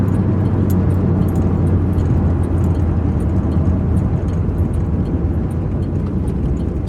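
A 1997 SS car, nearly thirty years old and in rough condition, drives along with its engine droning steadily and loud from the cabin, a continuous low rumble with road noise and no talking.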